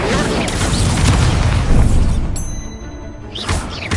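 Fire spell cast in the Hogwarts Legacy video game: a loud booming whoosh and crackling blast with heavy low rumble, fading out, then a brief second flare near the end.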